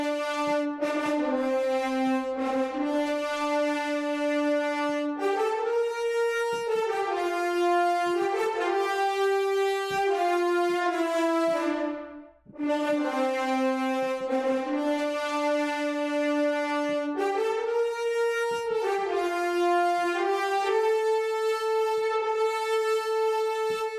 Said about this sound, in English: This is a Cinesamples instrument.